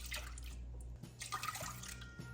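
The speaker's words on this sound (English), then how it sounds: "So you're going to put half a cup of milk and half a cup of water into the pot." Milk and water poured into a cooking pot, a soft steady liquid splash and trickle with faint dripping, close and unaccompanied by talk.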